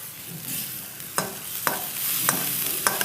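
Food stir-fried in a wok over high heat gives a continuous sizzle, broken by several sharp metallic scrapes and clanks of a utensil against the pan at irregular intervals.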